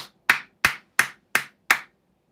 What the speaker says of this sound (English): If you don't have sage, clap your hands.